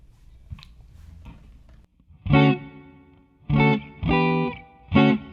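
Electric guitar played through a TC Electronic Hall of Fame reverb pedal set to a longer decay at a lower level: four sustained strummed chords, each ringing out with a soft reverb tail, after a quieter stretch of faint picking.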